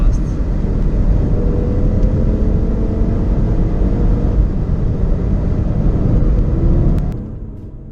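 A 400 bhp Audi RS3 accelerates hard in third gear, its engine a loud, steady, close rumbling roar that holds for several seconds and then eases off near the end.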